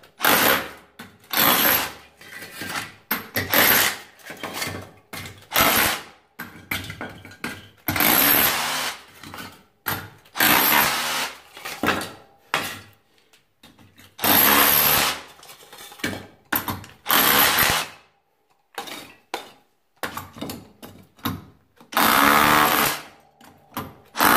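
Huepar 20V brushless cordless SDS-Plus rotary hammer drill boring into bricks, loud broadband hammering in repeated bursts of a few seconds separated by short pauses, close and with no talk.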